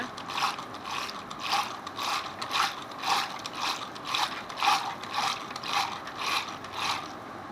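Buttermilk churned by hand to make butter produces a steady, rhythmic ratcheting swish, roughly two strokes a second, repeating evenly at close range with no voices.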